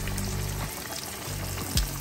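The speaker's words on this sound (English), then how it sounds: "frying in a shallow pan like that, I mean, I let them fry about a minute to a minute and a half on both sides" Crappie fish fry in grease in a shallow pan, giving a steady, close bubbling sizzle with a brief louder spatter near the end and no talking.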